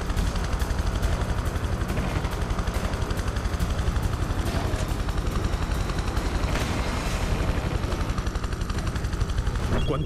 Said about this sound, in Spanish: ¿Cuántos helicópteros?